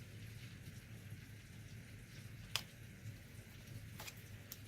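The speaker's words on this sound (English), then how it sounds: "it is raining outside, which is great." Steady rain falls outdoors as a soft, continuous broadband hiss with a low rumble underneath, broken by two or three sharper drip or patter ticks; moderately faint, with no voices.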